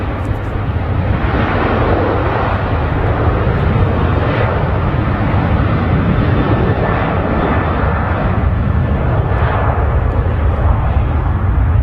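A Boeing 737 passing at Manchester Airport, a loud, steady broadband jet roar that fills the whole stretch without letup, close and powerful, with no voices.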